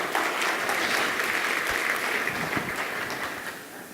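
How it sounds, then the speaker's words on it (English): Audience applause at a policy conference, a dense steady clapping from a crowd that stays loud and gradually tapers off toward the end. "Let's give her a round of applause."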